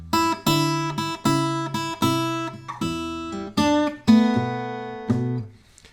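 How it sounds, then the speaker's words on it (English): Solo guitar plays a short Delta blues turnaround of plucked, descending chord figures in a steady rhythm, ending on a ringing final chord. "this is one of the classic turnarounds you hear everywhere in the Delta blues"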